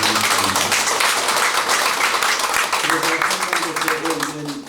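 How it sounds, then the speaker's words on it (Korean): A large audience at an Icheon peace and unification forum New Year gathering breaks into dense, sustained clapping that holds strong for several seconds before thinning slightly, with a voice audible underneath. "여러분 스스로 큰 박수를 한번 쳐주시기 바랍니다"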